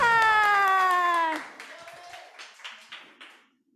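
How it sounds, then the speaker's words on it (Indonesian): A sustained sung or played tonal note ends, then applause follows from a Sunday school service congregation at a Batak church in Bandung, with irregular claps that thin out and fade within a couple of seconds. "tepuk tangan untuk Tuhan"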